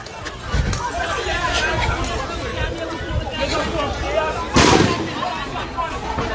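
Live gunfire at a street protest where police fire rounds and pellets: scattered sharp reports and a loud burst sound through crowd noise and shouting voices.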